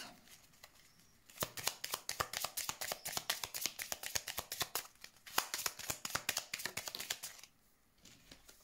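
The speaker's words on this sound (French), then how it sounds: "Je vais mettre la dernière carte." Tarot cards being shuffled in two long bursts of rapid, close riffling clicks, with a quieter card being laid out near the end and quiet gaps between.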